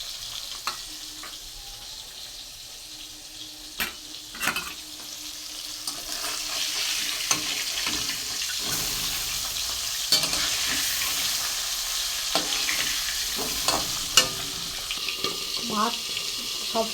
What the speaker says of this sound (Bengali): ট্যাংরা মাছগুলো ভেজে নেব।